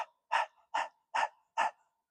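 A person does rapid, rhythmic breathing through the nose, imitating a panting dog during a Kundalini yoga exercise: four or five short, sharp, evenly spaced exhales, close and fairly quiet, with no talking.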